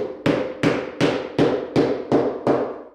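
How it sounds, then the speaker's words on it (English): Seven evenly spaced hammer taps strike a leather edge around a saddle swell while a ground seat is installed, each blow sharp and close, ringing briefly before the next. "I'm gonna come in with a hammer. I'm gonna tap my edge around the swell in."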